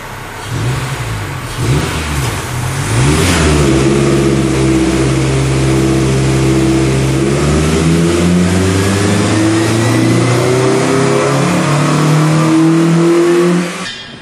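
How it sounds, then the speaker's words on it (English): A car is started and revved on a dynamometer for a baseline run on stock exhaust. The engine rises through several loud, sweeping climbs in pitch that hold near the top and then drop away at the end, with no talking. "Now we're ready to do our first baseline dyno run."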